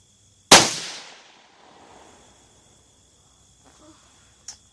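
A single sharp rifle shot cracks out close and loud, then a decaying outdoor echo, followed by faint small sounds and a short click near the end.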